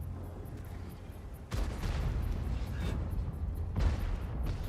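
A heavy tank cannon blast booms at about one and a half seconds in World of Tanks, then rumbling battle noise continues, with a second loud shot near the end.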